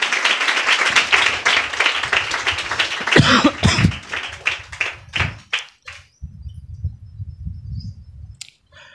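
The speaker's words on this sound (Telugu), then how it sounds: "చప్పట్లు కొట్టు." A congregation at a Sunday worship service claps hands, starting as dense, loud rhythmic applause and then thinning into scattered, separate claps that trail off into near quiet.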